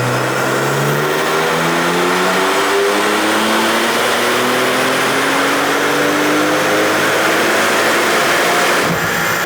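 A car engine revs hard on a chassis dyno running JB4 Map 1 on 91 octane, its loud, steady climbing drone rising through the gears with harmonic sweeps before cutting off near the end.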